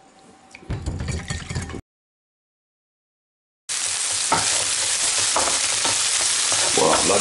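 Beef pieces sizzle and fry loudly in a hot pan with bits of stirring, stopping for a short silent gap before a steadier, louder sizzle picks up again and continues to the end.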